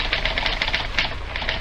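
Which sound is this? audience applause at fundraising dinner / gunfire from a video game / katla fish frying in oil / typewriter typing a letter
typewriter typing a letter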